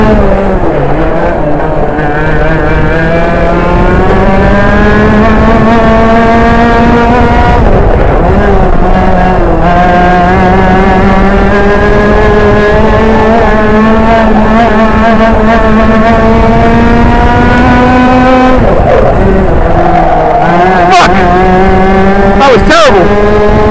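Racing engines roar continuously during a forest heat, loud rising and falling revs with gear-change dips, staying close and dominant for the whole stretch.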